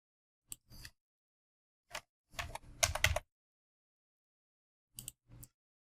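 Computer keyboard typing in short isolated bursts of a few keystrokes each, close and fairly quiet, with silent gaps between bursts.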